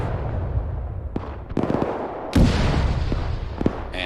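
Mortar fire in Arma 3 during a winter World War II-era battle, with several sharp distant thumps and one heavy boom midway, set against a constant rumbling battlefield background.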